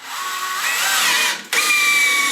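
A DeWalt DCD995 cordless hammerdrill drives a 3-inch coated deck screw into a 2x10 board: a steady high-pitched motor whine, close and loud, with a brief dip as the bit slips before the drive resumes.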